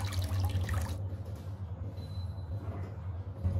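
Wild mushrooms gathered in the Yunnan mountains, including green-capped russulas, are washed by hand in water. There is a steady low wash of splashing and sloshing, busier in the first second and then quieter and softer.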